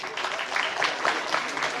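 Steady audience clapping for the regent at an anti-narcotics school program launch in Indonesia, an even, dense wash of applause filling the hall without a break.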